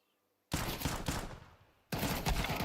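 Loud gunfire bursts in a Counter-Strike tournament match: a dense volley cuts in sharply, fades, then a second heavy burst erupts, all close and with no speech.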